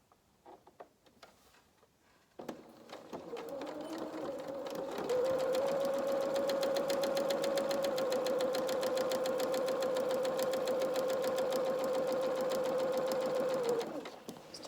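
A sewing machine starts up after a few quiet clicks and runs steadily for about nine seconds with a fast whirring hum as it stitches a second row on dungarees, then stops.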